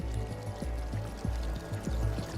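Mountain spring water runs into a stone channel at Machu Picchu, a close, steady pouring gurgle with soft rhythmic surges, roughly ten gallons a minute flowing.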